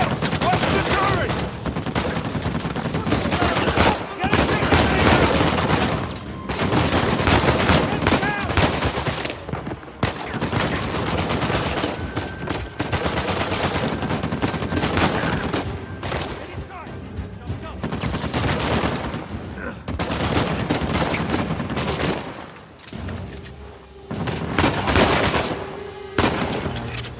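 Heavy automatic turret fire from Uncharted 4 on PS4, sustained loud bursts of gunfire with short gaps, mixed with game music and effects.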